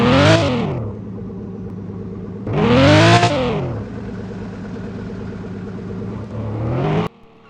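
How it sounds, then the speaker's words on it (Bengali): A Mark 2 car in a video game revs its exhaust in two loud rising-and-falling sweeps, settling to a buzzing idle between them, with a third shorter rev cut off abruptly at the end. "তোমরা আমার গাড়ির এক্সজস্টটা শোনো"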